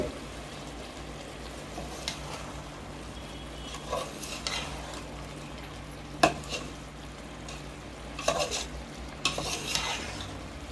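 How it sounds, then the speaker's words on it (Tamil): A lid is set down on a pot of chicken biryani (half a kilo). One sharp metallic clank rises over quiet scraping and stirring clatter, with a few softer knocks of utensils against the pot. "இப்போ மூடி போட்டுக்கலாம்."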